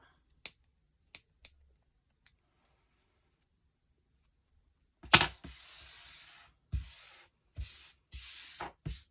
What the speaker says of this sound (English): let's just cut that corner a bit